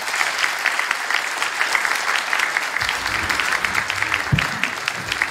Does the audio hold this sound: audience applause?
yes